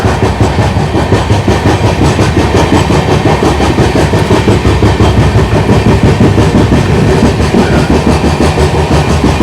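A 22943 Daund–Indore SF Express train accelerates, rumbling loudly along the rails with a fast, steady clickety-clack of wheels over joints, heard from on board between Kalyan and Surat.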